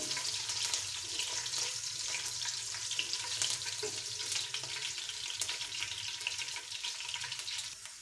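Green cardamom fries in hot oil in a pan, giving a continuous, even crackling sizzle with light stirring, heard close and fairly quiet with no voices.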